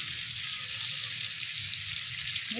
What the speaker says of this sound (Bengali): তো প্রথমে আমি চিকেনগুলো আগে ভেজে নেবো।